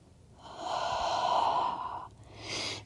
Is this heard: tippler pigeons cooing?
no